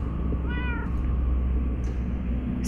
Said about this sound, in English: Tô escutando barulho de gato.